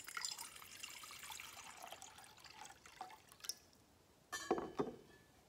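Water poured out during a worship service as a reminder of baptism: a soft, close trickle and splash, faint at first, with a couple of louder splashes near the end.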